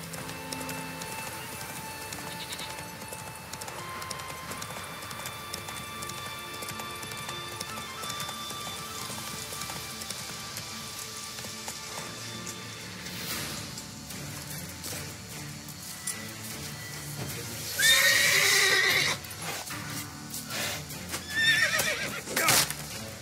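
Roach the horse in The Witcher 3, steady clip-clop hoofbeats of a gallop running throughout, then a loud close neigh near the end, with a brief spoken line and game ambience behind.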